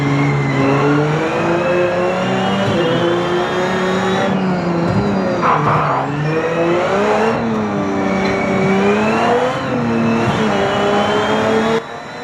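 An LMDH prototype race car engine in a sim racing game roars loudly and continuously, its revs climbing and dropping through gear changes, with no voices.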